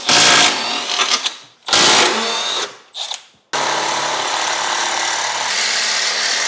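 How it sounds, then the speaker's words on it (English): A reciprocating saw blade cuts during an RX7 teardown, heard as loud, close buzzing bursts with short pauses between them and then a long continuous cut, no talking. "let the blade reciprocate."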